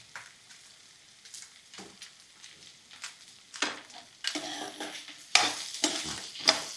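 Chillies for beetroot chutney sizzle in a pan, with scattered stirring scrapes building into louder bursts of frying crackle.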